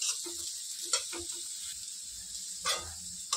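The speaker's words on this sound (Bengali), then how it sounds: "আর এদিকে আমার সুজিটাও ভাজা হয়ে গেছে।" Semolina roasting and being stirred in a pan for upma, a soft steady sizzle with a few brief scraping strokes of the spoon, close and continuous on its own.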